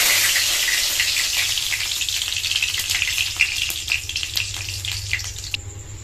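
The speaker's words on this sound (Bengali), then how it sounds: "আর এই তেলে আমি এখন দিয়ে দেবো কারি পাতা।" Curry leaves dropped into hot oil after roasted peanuts, for poha: a loud, close, continuous sizzle with crackling spits that gradually eases, no voices.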